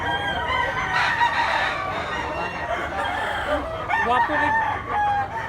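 A yellow-legged bulik stag rooster crows in a long, close, strained call, with clucking and other fowl nearby and a voice talking briefly over it.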